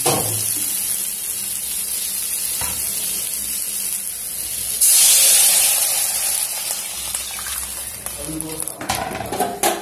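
Water is poured into chopped pumpkin frying in a hot pan, setting off a sudden loud hiss midway that settles back into a steady, close sizzle.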